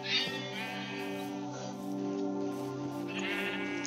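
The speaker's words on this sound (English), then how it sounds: "Oh my gosh, it's more cursed sheep." Sheep in a video game bleat in a steady, quavering run of several overlapping calls, moderately loud and heard alone over a faint background.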